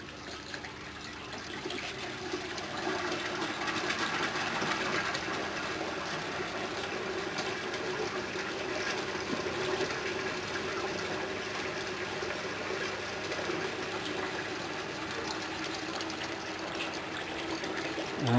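Water rushing steadily through an aquaponics bell siphon with a 10-inch standpipe as it flushes, a continuous pouring gush lasting many seconds, close and alone.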